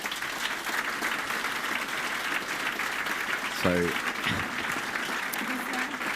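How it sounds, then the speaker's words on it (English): An audience applauds for Emma Grede at a leadership talk, a steady wash of clapping throughout, with a brief spoken word from a presenter partway through. "everyone give a round of applause for Emma"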